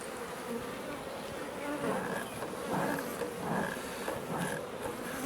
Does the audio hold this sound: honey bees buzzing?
yes